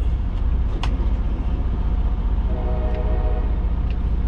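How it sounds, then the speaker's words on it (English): Heavy, continuous rumble of a train passing close by a flatbed truck job site, a dense low roar with a few brief higher squeals and clanks and no talking over it. "Damn train"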